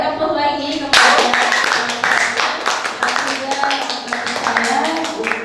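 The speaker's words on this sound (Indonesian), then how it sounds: "Kita beri aplaus lagi kepada" A lecture audience bursts into applause, a burst of many hands clapping that starts suddenly and carries on steadily for several seconds with no voices over it.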